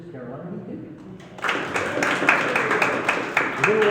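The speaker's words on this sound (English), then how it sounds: "A little louder applause." Audience applause at a Ridgewood, Columbia Township town hall meeting, starting suddenly after a short spoken introduction and continuing as a steady, fairly loud wash of many hands clapping.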